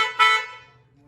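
Cheap aftermarket train-style horns on a 1947 Ford, wired to a homemade push button, give two short, loud, nasal blasts close up, the second a bit stronger, then fade out.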